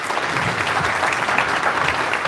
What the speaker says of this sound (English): And a big round of applause for our club.